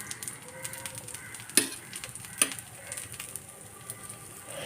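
Adai dosa frying in coconut oil on a pan gives a soft, steady sizzle, close and quiet, with a couple of sharp clicks of a spatula or utensil along the way.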